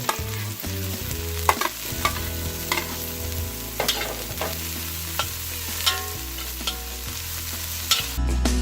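Curry leaves, green peas and carrot sizzle steadily in a hot pan for Kerala-style broken wheat upma, with a continuous frying hiss and occasional spoon clinks and stirring scrapes, and no voices.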